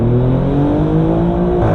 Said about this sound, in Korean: 저 배기음이랑 변속할 때마다 터지는 팝앤백